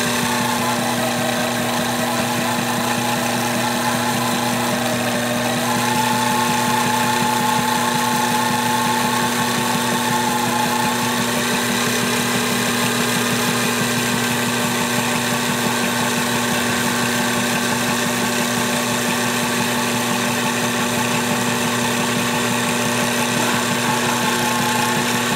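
A Gorman Productor II toroid winding machine winds a Sandvik toroid, giving a steady, close mechanical whir with a constant hum and faint shifting whine throughout, no talk.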